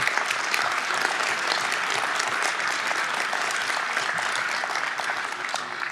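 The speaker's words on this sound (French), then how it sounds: "On peut les applaudir." Sustained applause from a crowd at a mayor's re-election speech, steady and fairly loud throughout, with dense overlapping claps and no pauses.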